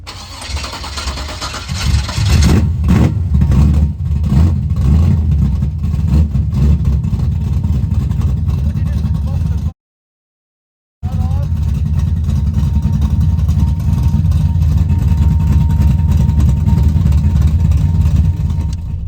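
A Camaro's engine starts and runs loud and close, idling and revving steadily for about ten seconds, then, after a brief gap, carries on rumbling at a steady idle.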